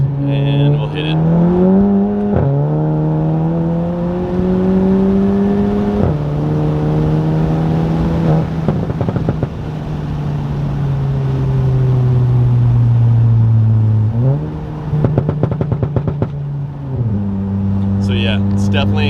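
A VW MK7 GTI with a custom exhaust pulls hard in second gear from about 35 mph, its engine droning and rising in pitch through repeated upshifts, heard loudly from inside the cabin with crackles near the end.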